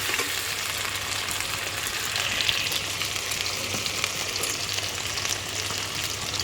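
Potatoes fry in a pan with a dense, steady sizzle and crackle close by, continuous at moderate loudness, no talking.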